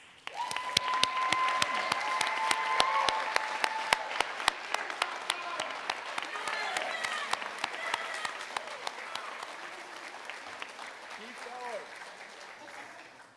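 Audience applause at the Drexel University Close School of Entrepreneurship commencement ceremony: steady crowd clapping with sharp individual claps, gradually thinning toward the end, while a voice talks over it.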